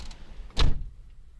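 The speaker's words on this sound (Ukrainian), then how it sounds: "Закрию двері" A car door on a Mitsubishi Lancer 9 shuts once with a single solid thud, close by, against a quiet cabin background.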